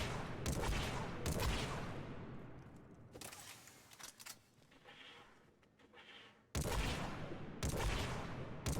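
Semi-automatic rifle firing in Mass Effect 3, dense bursts of rapid shots in several clusters separated by a quieter gap with faint rattles.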